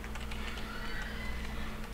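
Computer keyboard keys are pressed in quick, irregular light clicks while a PlayStation 2 game runs in an emulator on a PC, faint and steady over a constant background hiss, with no talking.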